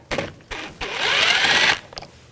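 Ratchet fitted with a T20 socket backing screws out of a 2000-2006 BMW X5 front door: a few short clicking bursts followed by a longer, rapid ratcheting run, close and clear.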